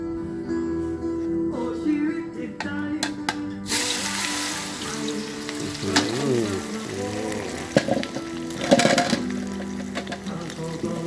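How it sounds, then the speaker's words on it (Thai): Running water from a tap splashes into a sink, followed by clattering and a hissing sizzle as duck pieces hit a hot frying pan. "เดี๋ยวเฮาสิใส่กระทะทอดละ"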